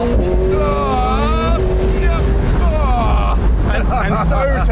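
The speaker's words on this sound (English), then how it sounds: "this engine is incredibly turbocharged" Turbocharged supercar engines of a Lamborghini Revuelto and McLaren 750S racing, a loud sustained rising engine whine with whistling harmonics, wind buffeting the microphone and a voice talking over it throughout.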